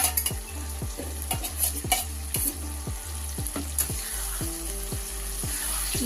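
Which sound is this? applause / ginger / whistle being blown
ginger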